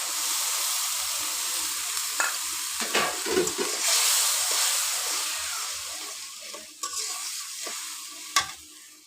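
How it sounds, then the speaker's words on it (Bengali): Spices sizzle steadily in hot oil in a pan as turmeric, salt and chili are added, with scraping stirs and a few sharp clinks over a continuous close fry, no voices. "এই মশলাগুলো ভাজা হয়ে গেছে এবার এর মধ্যে দিয়ে দেবো হলুদ লবণ মরিচ"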